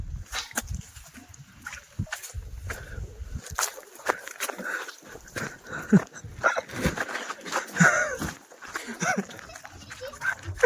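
A puppy yaps in short, scattered barks and whimpers at close range in a garden, mixed with shuffling movement and some voices in the background.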